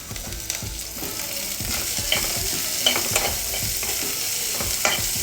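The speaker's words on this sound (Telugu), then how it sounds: "ఇందులోకి మనము ఫైన్లీ చాప్డ్ ఆనియన్స్ యాడ్ చేసుకుందాం. ఇవి ఆనియన్స్ అనేది కొంచెం గోల్డెన్ బ్రౌన్ కలర్ వచ్చేదాకా ఫ్రై చేసుకోవాలి." Finely chopped onions fry in hot oil toward golden brown, a close, steady sizzle broken by repeated scraping strokes of a stirring spoon against the pan.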